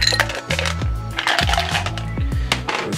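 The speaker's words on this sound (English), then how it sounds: "we're gonna fill up the shaker cup first. Shaker cup here. We got a cup of ice cubes here." Ice cubes tumble into a shaker cup, producing a rapid series of close, hard clinks and clattering knocks as the pieces pile in.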